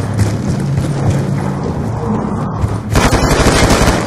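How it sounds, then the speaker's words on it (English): Rapid automatic gunfire in a first-person shooter video game, loud bursts of shots continuing over several seconds, with a sharper, denser volley near the end. "They're fucking shooting at each other."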